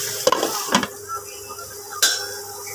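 Mango pickle being stirred in a pan for a Bengali-style aam achar: a few scraping, clattering stirs over a soft background sizzle, close and moderately loud, with no talking.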